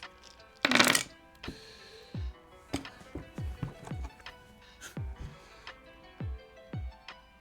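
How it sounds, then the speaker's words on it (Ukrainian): Light dice from the Ninja Master board game are tossed onto a table. A quick rattling burst is followed by a string of small, close clicks and taps as they tumble and settle. "Такі легкі кубики."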